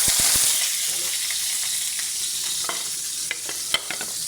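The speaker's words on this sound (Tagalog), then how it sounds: "naglagay tayo kunting mantika. Tapos ihuhulog na natin itong ating mga aromatic." Chunky unpeeled ginger, large onion pieces and garlic sizzle loudly in a little oil for chicken sinugba, with a steady hiss and a few sharp crackles and spatula clicks, alone and close.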